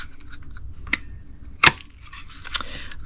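Scissors snip through Pear Pizzazz cardstock to cut out leaf shapes, giving a few crisp, close cuts spaced about a second apart in an otherwise quiet room.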